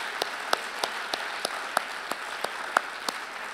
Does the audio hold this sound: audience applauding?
yes